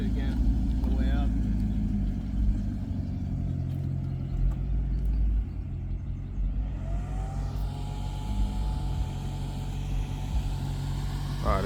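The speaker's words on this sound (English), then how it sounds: "Give it a rev real quick." Maserati GranTurismo engine revving while parked during work, a low rumble that swells and fades over the idle, with people talking close by throughout.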